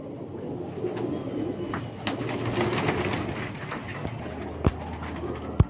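Pigeons coo softly against a busy outdoor background, with a few sharp knocks and clicks near the end.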